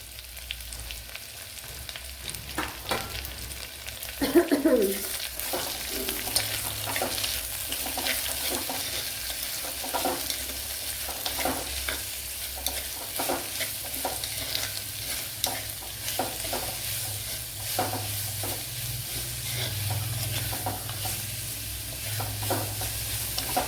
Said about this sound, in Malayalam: ഇതിനെ ഒന്ന് ഫ്രൈ ചെയ്തെടുക്കണം